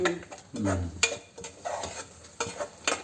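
A spoon stirs grapes into a sweet curry in a pot, making several short scraping and clinking strokes over a faint sizzle, close and fairly quiet.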